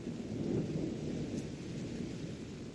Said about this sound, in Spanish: oyó el estruendo de un relámpago que sonó con mucho más estrépito